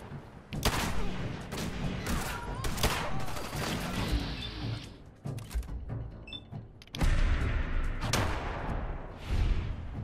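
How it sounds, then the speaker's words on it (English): Automatic weapons fire in the Fallout 4 video game, repeated rapid bursts of shots rattling close and loud, broken by short pauses and mechanical clicks, with a voice briefly audible. "Oh crap, yeah, they got automatic weapons,"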